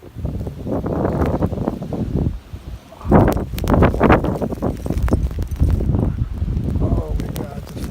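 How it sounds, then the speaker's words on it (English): Strong gusty wind during a heavy New York snowstorm buffets the microphone in loud, rumbling surges, with voices heard through it. "this fucking wind"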